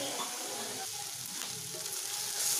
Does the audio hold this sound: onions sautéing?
yes